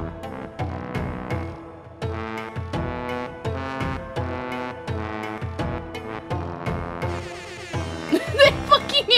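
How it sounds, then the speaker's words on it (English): Brassy air horn blasts from the trombone video game Trombone Champ sound about a dozen times in a rhythmic sequence of loud, buzzy honks, ending in a busier, noisier burst. "The fucking air horn!"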